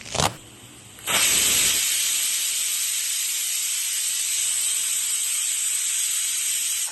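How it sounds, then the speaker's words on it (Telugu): Pressure cooker on a stove cooking country chicken curry lets off steam in a loud, steady hiss that bursts briefly, pauses, then rises and holds strongly for several seconds, with no voices. "స్టవ్ మీద పెట్టి మూడు విజిల్ రానిస్తాం"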